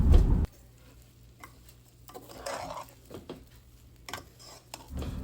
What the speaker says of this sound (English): So by the time as you see me finish stirring this, ain't gonna be no white parts of the rice